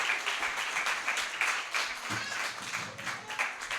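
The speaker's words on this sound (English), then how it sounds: "Can we get another round of applause for Nomadic Libah," An open mic night audience at a creative cafe claps in a soft, steady patter, fairly quiet and a little distant, with the odd louder clap.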